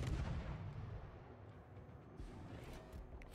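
Naval artillery from warships in the game World of Warships, with a deep booming gunfire rumble at the start that fades into a low, distant sustained roar.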